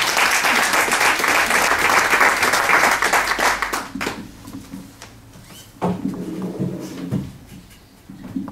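Audience applause at a gathering, a dense burst of many hands clapping for about four seconds that thins into scattered claps, shuffling and knocks before a few more claps near the end.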